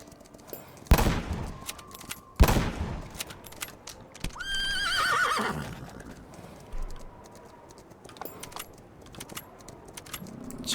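A horse in the Roblox Wild West game lets out a rising, wavering neigh midway, surrounded by sharp gunshot-like cracks, jangling clatter and a faint background hum.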